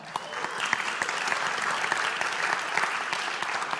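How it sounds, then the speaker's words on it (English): Seminar audience giving a round of applause, brisk continuous clapping with distinct hand claps popping out, close and loud, with no one speaking over it. "big round of applause for those people who just stood up"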